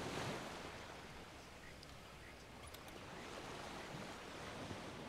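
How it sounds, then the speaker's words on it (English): Waves lap steadily in the video game Divinity: Original Sin, a soft, continuous wash of water with faint gusts, heard at low level with no voices. "Water looks pretty good, doesn't it?"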